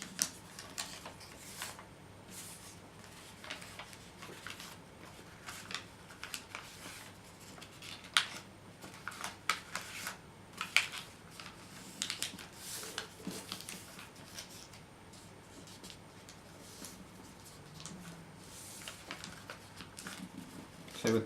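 Origami paper is folded and creased into a flapping bird, giving soft, irregular crinkles, taps and rustles close by that run throughout, with some quiet talk mixed in.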